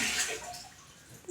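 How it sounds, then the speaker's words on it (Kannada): Water is poured from a one-litre vessel into a pot for cooking rice flour, a close, splashing gush that tapers off and stops abruptly. "ಇದು 4 ಲೀಟರ್ ನೀರು ಹಾಕ್ರಿ."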